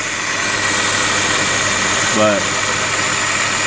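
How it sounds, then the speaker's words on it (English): A Subaru GC8 Impreza engine idles steadily and loudly while someone talks over the constant mechanical drone. "I hope you guys can hear me over the engine"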